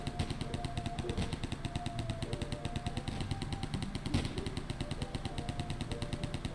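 Rapid machine-gun fire from the video game Airheart: a dense, relentless stream of evenly spaced shots, loud and continuous, with an engine drone underneath.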